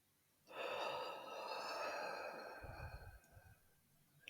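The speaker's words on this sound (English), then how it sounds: "Breathing in with the yawn." A long, close yawning inhale during a breathing exercise, one deep drawn-in breath that swells quickly, holds and slowly tapers off with a few soft catches at the end.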